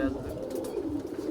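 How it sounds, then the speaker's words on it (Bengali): Pigeons coo softly in a short, faint burst, low murmuring calls close by in a quiet space. "অনেক সুন্দর কবুতর।"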